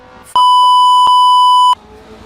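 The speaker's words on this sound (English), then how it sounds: "I'm putting in a lot of beeps in this episode." A single loud, steady electronic tone lasts just over a second, cutting in and out sharply against quiet surroundings.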